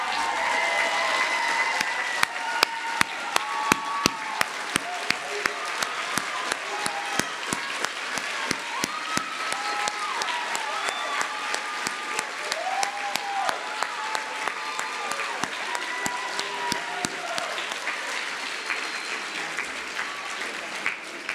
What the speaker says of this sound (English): we could applaud you for a change.